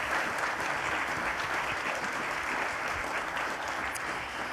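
Sustained round of applause from a banquet audience at a university homecoming awards dinner, steady dense clapping filling the room for several seconds with a faint murmur underneath.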